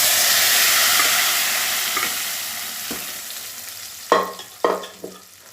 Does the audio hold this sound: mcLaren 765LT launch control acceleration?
no